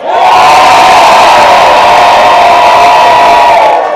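Loud crowd at a Papa Hemingway lookalike contest at Sloppy Joe's in Key West, cheering and whooping in a steady, dense roar that holds for the whole stretch with no talk on top.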